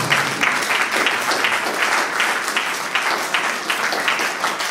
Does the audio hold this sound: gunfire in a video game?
no